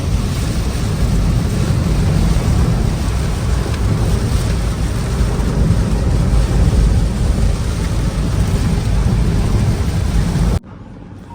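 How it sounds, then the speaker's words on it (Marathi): Heavy, unrelenting monsoon rain pours down around a roadside shed, making a dense, loud, steady roar that carries on without pause before cutting off abruptly near the end. "पाऊस काय थांबायचं नाव घेईना आता"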